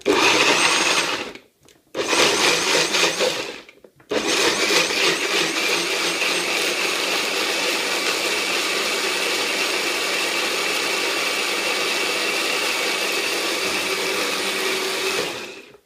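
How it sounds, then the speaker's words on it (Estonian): Electric blender blending gooseberries: two short loud whirring bursts, then a steady high-pitched motor roar that runs for about twelve seconds and cuts off at the end, with no talking. "võtsin tikrid ja panin siia blendrisse ja nüüd blenderdan need ära"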